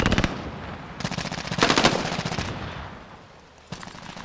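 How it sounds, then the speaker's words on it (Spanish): Bursts of machine gun fire from a Modern Warfare video game, loud and close, with rapid repeated shots in several runs separated by short pauses. "Buena esta, buena esta metraladora, muy buena"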